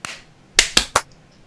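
Three quick sharp hand claps in a row, crisp and close, following a softer faint hit at the start.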